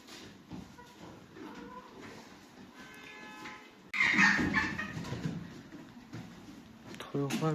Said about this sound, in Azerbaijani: Toyuqlar burada bir-birini döyürlər.